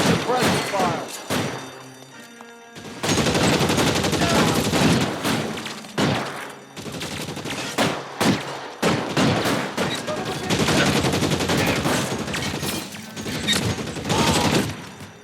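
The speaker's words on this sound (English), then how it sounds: "I'll lay down some suppression fire." Sustained suppressing gunfire in the video game L.A. Noire, loud rapid bursts of shots and heavy thumps filling most of the span, with short pauses and a brief lull between volleys, under occasional game voices.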